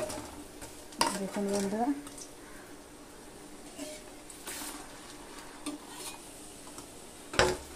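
Sabudana fritters frying in oil for an Ekadashi recipe, a soft sizzle beneath scattered utensil clatter and scraping, with someone talking over parts of it.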